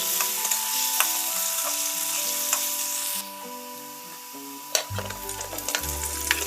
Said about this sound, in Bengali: আলু আর পেঁপেটা ভাজা হয়ে গেলে দিয়ে দেবো কুমড়ো কুমড়োটাকেও একের সঙ্গে ভালোভাবে ভেজে নেব